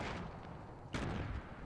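A single gunshot in Fortnite booms loudly about a second in, following a softer rumble of game noise.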